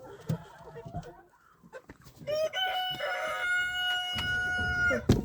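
Chickens cluck and a rooster crows loudly and close inside a backyard coop, with scattered clucks and rustling around a sustained crowing call; a voice speaks briefly.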